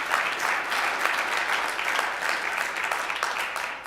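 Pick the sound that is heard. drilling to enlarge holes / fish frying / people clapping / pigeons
people clapping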